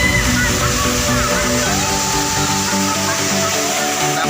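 The Denalo waterfall roars continuously, a dense rushing and sloshing of falling water that fills the whole scene at close range without letup.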